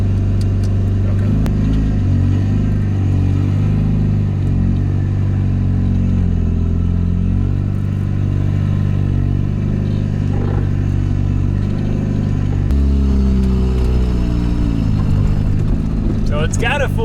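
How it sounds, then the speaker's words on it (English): LS V8-swapped Mazda FC RX-7 with a full exhaust and a massive exhaust leak, revving and clattering loudly up close, with throttle blips rising and falling. "it definitely sounds like it's got a massive exhaust leak"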